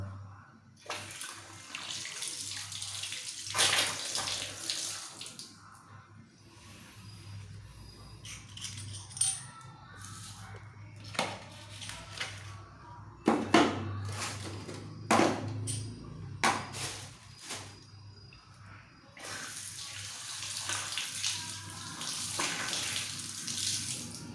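Water runs and splashes from a wall faucet in a home, an uneven close rush with bursts and gurgles broken by short quieter gaps, with no talking.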